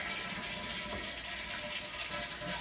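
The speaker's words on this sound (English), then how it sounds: "You need to flush." A toilet flushes in a home bathroom, a steady rushing gush of water that continues without a break, fairly close and unaccompanied by talk.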